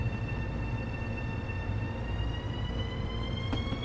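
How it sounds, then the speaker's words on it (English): Long Island Rail Road M7 electric train from Train Sim World 2 rolling into Penn Station, a steady low rumble with sustained tonal whine and a brief higher squeal near the end, no voices. "So we're just going to bring this train into Penn Station here"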